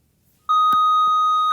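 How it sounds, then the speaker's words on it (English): A bell tone rings out abruptly and sustains steadily, with a knock and a small thud under it and a second strike near the end, close and fairly loud with no talking. "there's the bell"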